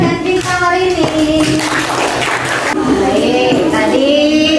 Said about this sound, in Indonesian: Tepuk tangan yang dapatkan bintang hari ini.